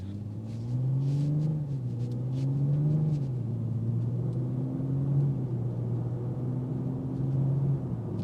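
A 2025 BMW 330i or M340i cruising in normal drive mode, its engine a steady low rumble from inside the cabin that rises and falls gently through mild shifts, with no voices over it.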